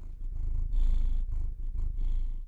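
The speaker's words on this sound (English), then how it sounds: "And that's my cat, Abraham" A cat purrs up close in a steady, low rumbling rhythm, each breath cycle swelling and easing over a couple of seconds, soft and alone.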